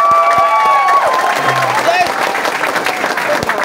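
An audience applauding and cheering at an event, dense clapping from many hands with scattered shouts and whoops, steady throughout, while a voice briefly carries over the crowd.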